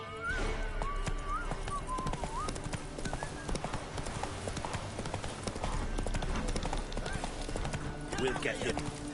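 Roach the horse in The Witcher 3 gallops with rapid clip-clop hoofbeats and whinnies several times, the hooves steady and close throughout while a voice speaks over them.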